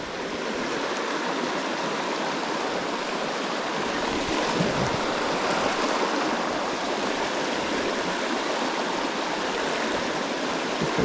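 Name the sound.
fast-flowing river water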